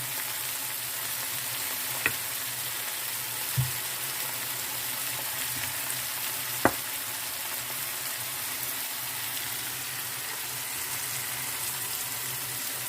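Steady sizzling from a frying pan at low-moderate level, with a few sharp pops and spatters standing out over the continuous hiss.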